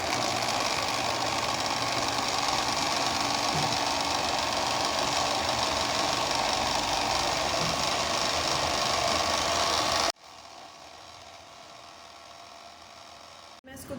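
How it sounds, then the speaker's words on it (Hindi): A kitchen grinder whirs loudly as it blends a homemade eggless ice cream mixture, a steady motor roar that stops abruptly partway through and leaves quiet room tone. "ग्राइंड हो रहा है ये। अभी मैं इसको और ग्राइंड करूँगी।"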